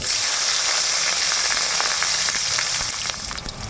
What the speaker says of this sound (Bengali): পেস্ট করা সর্ষে আর কাঁচা লঙ্কা দিয়ে দিলাম তেলে।